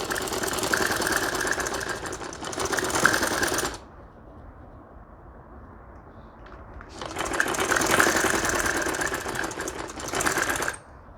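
A sewing machine stitches dori piping onto kameez fabric in two loud, fast rattling runs of about four seconds each, separated by a quieter pause.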